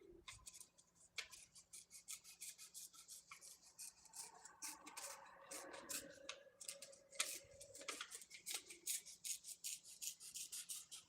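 Real scissors snipping and rasping through paper, a rapid series of close, crisp cuts and rubbing strokes running continuously at moderate volume, with no talk.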